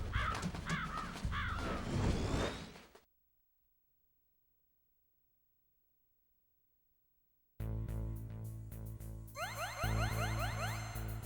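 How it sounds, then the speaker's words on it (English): A raven caws in the Metal Gear Solid video game, a run of harsh repeated calls, then a long silence before a dense burst of game sound and caws returns loud and close. "Yes, the raven on my head. It thirsts for his blood."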